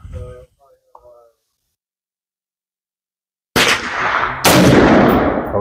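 Two sharp, loud rifle shots fired at a clay target on an outdoor range with 223/556 ammunition, each followed by a long echoing decay, after quiet talk and a silent pause.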